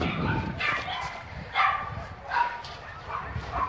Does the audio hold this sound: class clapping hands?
no